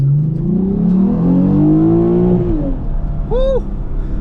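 A Lexus IS350 car accelerating hard, engine note climbing through the revs in a loud, close surge, then easing off as another short rising whine follows.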